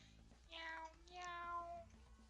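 Two drawn-out cat meows from the video game MapleStory, one after another, clear and fairly close, with a faint background hum and no talking.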